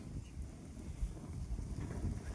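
Strong wind blows across the microphone in low rumbling gusts, steady with small surges, filling the clip without voices.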